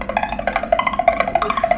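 A pipa played to imitate bubbling water: a rapid run of light plucked notes with quick tremolo-like pulses, steady and close, about two seconds with no voices.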